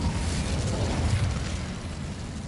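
The Incendio fire spell is cast in Hogwarts Legacy, a loud, steady roaring whoosh of flame that fills the whole moment and eases slightly toward the end, with no voices.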